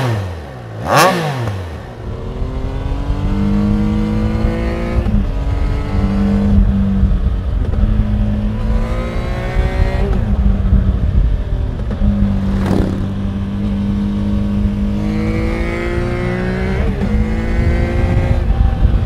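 A Triumph Trident 660 motorcycle on its stock exhaust revs through the gears, the engine note rising repeatedly and falling at each shift, with a few sharp revs standing out, loud and close throughout.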